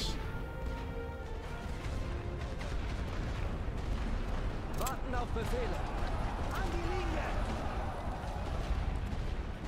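Artillery fire in The Great War: Western Front rumbles as a continuous wash of distant booms and crashes, with a few sharper impacts standing out midway.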